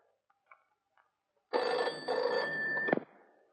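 A telephone rings once in a long steady burst of bell tone after a few faint clicks, clear and close, ending abruptly with quiet afterward.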